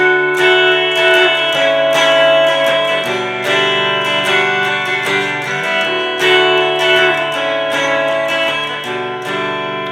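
A ringing guitar rhythm part from a song, strummed with open strings, bright and chiming, played steadily and fairly loud with no voices.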